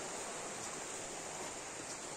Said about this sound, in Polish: Potok pięknie nam szumi, cały czas nam gra melodię